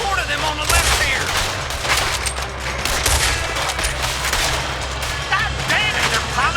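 Heavy, sustained gunfire from a Red Dead Redemption 2 shootout: dense overlapping shots ring out continuously with no pauses, loud and close, over a constant low rumble.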